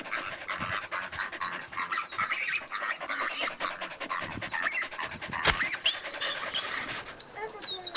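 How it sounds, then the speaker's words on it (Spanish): A dog pants hard and fast in a steady, close rhythm outdoors in the brush, with birds calling in the background and faint voices nearby. "¡Qué perro!"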